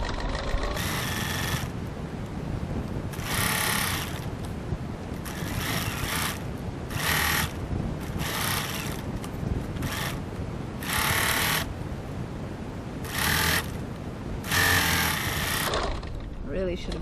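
A sewing machine runs in short bursts as it stitches the seam of a fabric boot-shaped gift bag, each run a few seconds of rapid whirring separated by quiet pauses, heard close and on its own.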